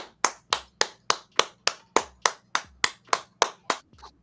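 Audience applause at a podcast wrap-up: a steady series of about fourteen sharp, evenly spaced claps, loud and close, with no talking over them.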